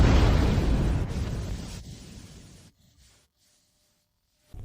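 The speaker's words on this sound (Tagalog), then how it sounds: "Ang unang batch ay sumabog na." A batch of alchemy pills exploding, a loud booming roar that begins at once and fades away over a few seconds into near silence, followed by a brief small thump.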